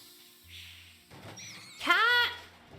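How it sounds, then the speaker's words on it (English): A cat's short, rising meow in the game Jenny LeClue, heard once near the end after quieter rustling and faint tonal sounds, moderately loud and alone with no talk over it. "Cat!"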